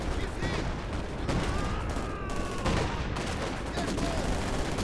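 105 artillery barrage in a Company of Heroes 2 battle, dense continuous rumbling blasts and gunfire filling the whole stretch, with faint commentary underneath.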